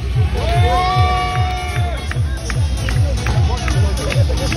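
Crowd cheering and shouting at a monster truck stunt show, with an announcer talking over a loud, pulsing beat of music; the noisy crowd stays energetic throughout.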